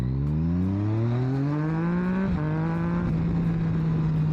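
Yamaha MT-09 motorcycle engine revving while riding, a close, loud harmonic engine note climbing steadily in pitch, briefly dipping at a shift, then holding high under wind rush.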